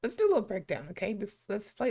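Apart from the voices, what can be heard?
None of the usual background noises is heard.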